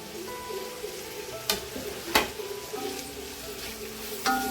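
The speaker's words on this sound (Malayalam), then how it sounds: "ജസ്റ്റ് ഒന്ന് വഴറ്റിയെടുക്കത്." Onion with crushed ginger and garlic sautéing in a pan for masala shawaya, a close, steady sizzle broken by a few sharp clinks of a utensil against the pan, with no voices.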